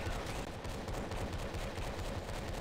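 Rapid gunfire fills a round of the online shooter Rush Team, dense overlapping shots forming a continuous loud barrage with faint voices underneath.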